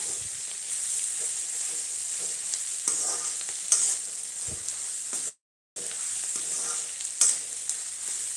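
Onions frying in a pan for lemon rice (chitranna): a steady, close sizzle and hiss with occasional stirring scrapes, broken by one brief silent dropout.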